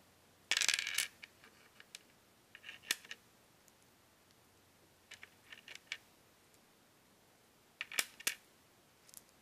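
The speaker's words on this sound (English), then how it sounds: "So I have 18 pegs and I'm going to lay them out in sets of 2" Small pegs set down on a table in pairs, making light clicking taps: a burst near the start, scattered clicks in the middle and a few more near the end, quiet and close with no talking.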